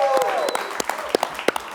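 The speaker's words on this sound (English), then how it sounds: "we do need to give another round of applause for our new host here, Hayden" Audience applause for a new host winds down into a few scattered, distinct claps, briefly overlapped at the start by a voice speaking over the crowd.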